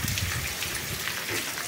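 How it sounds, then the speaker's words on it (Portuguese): Heavy rain pouring down in Jamacaru, Missão Velha, in Ceará's Cariri region, a dense, steady roar of drops drumming on surfaces nearby, with no voices. "Que benção, chuva."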